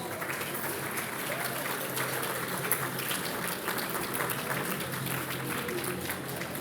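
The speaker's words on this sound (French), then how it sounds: "Et vous pouvez l'applaudir." Audience applause at La Nuit du Livre 2022, a French book awards evening: a large room of steady, dense clapping that holds evenly loud throughout, with crowd murmur mixed in.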